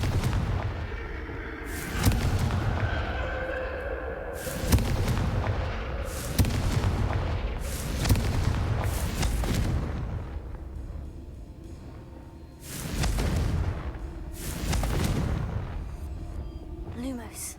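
Spell explosions from Confringo in a Harry Potter video game burst out as a series of heavy booms, about six or seven spaced a second or two apart, each with a rumbling tail, under an occasional voice.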